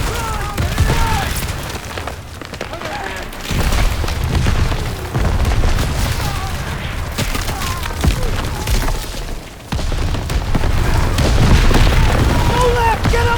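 Artillery shells explode in a World War II battle in Call of Duty WW2, repeated heavy booms and crashes over constant battlefield noise, with soldiers shouting urgently throughout.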